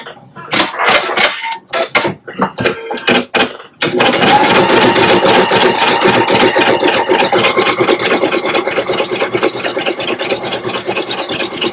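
A Pfaff Creative Icon 2 embroidery sewing machine starts with a few separate mechanical clicks, then runs into a fast, loud, steady stitching rattle that carries on without speech.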